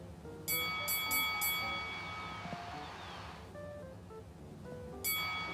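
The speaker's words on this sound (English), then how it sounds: "mixed in with this bell ringing sound effect is a crowd cheer" Bright bell chimes ring out in quick bursts, then fade into a busy wash of crowd cheering and game effects from Animal Crossing: New Horizons before the chimes return near the end.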